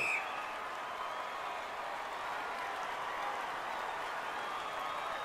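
An arena crowd in the NHL 21 hockey video game cheers and applauds in a steady, loud, sustained roar with no breaks.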